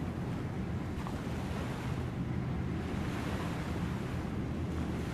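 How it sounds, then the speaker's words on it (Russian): Sea waves roll onto an almost empty beach in late September, a continuous broad wash of surf close by with wind noise buffeting the microphone throughout. "стал смотреть на волны, которые накатывались и падали на берег"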